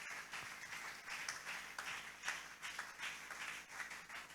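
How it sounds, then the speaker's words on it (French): A church congregation claps hands together in acclamation during a worship service, a soft, continuous patter of many hands heard faintly, with no voices over it. "Tobeti maboko makasi pona maloba ya nkolo."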